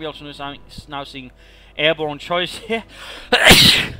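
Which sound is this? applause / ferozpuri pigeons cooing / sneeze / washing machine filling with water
sneeze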